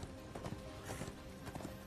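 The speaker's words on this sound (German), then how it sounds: "Oh, endlich wieder ein Pferd reiten." Rhythmic hoofbeats of a horse in Darksiders 2 clop along at a quick, even pace, moderately close, with a steady background hum behind them.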